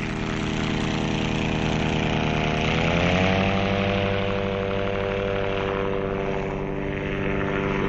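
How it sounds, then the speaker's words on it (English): A 1960s McCandless autogyro gyroplane runs at full power with its rotor spinning into the wind, a loud, steady propeller-engine drone with a strong hum whose pitch rises and holds throughout. "The rotor spinning, facing into the wind, full power is applied."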